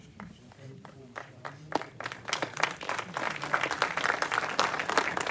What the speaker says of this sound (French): Merci, oui, des applaudissements, c'est bien sympa.